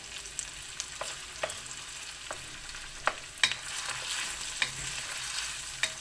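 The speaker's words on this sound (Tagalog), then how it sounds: "Haluin natin ng konti para lumasa yung sibuyas at bawang dun sa giniling." Ground pork frying with onion and garlic in a pan for lumpiang toge filling, stirred with a steady crackling sizzle and sharp scraping clicks of the utensil scattered through it, close and fairly loud.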